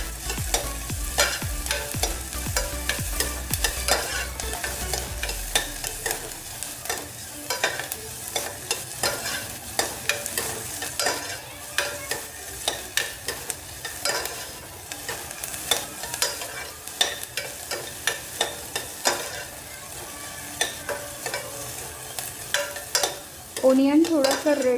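Chopped onions are stirred and sautéed in a pan for drumstick soup, a continuous close sizzle broken by frequent scraping and clacking of a spoon against the pan, with a low hum at the start.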